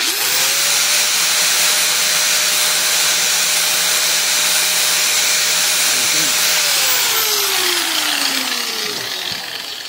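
An angle grinder spark-tests a cast iron lead screw nut, with a loud, steady high whine that holds for several seconds and then spins down toward the end.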